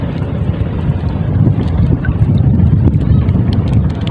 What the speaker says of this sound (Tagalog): Mabagat na yung hangin natin.